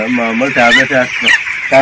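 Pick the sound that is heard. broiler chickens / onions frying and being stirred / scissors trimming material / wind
broiler chickens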